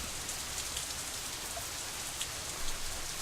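Steady rain from the visual novel Katawa Shoujo falls as a dense, even hiss with faint scattered drop patter, continuous and alone.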